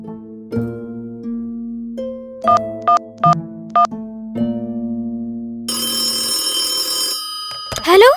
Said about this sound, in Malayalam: ജോജിയെ വിളിക്ക്